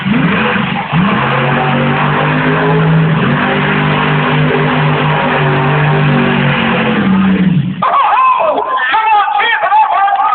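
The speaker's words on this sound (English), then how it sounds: "tell that Bigfoot monster truck, that is unbelievable, isn't it? Wow, what a beast it is" The Bigfoot monster truck's engine revs loudly at Yarmouth stadium, a sustained roaring drone that rises and falls in pitch before cutting off abruptly, followed by an announcer talking over a public address system.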